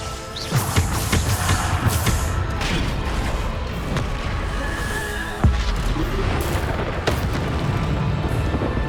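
Bombarda spell explosions in a trial battle in the video game Hogwarts Legacy, a dense, loud, rumbling barrage of booms and blasts with sharper bursts standing out near 0.5, 5.5 and 7 seconds.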